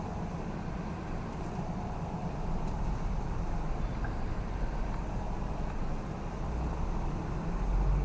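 Mahindra Bolero Neo SUV cruising on a road, a steady low engine and tyre rumble with broadband road noise that holds constant and swells slightly toward the end, no voices.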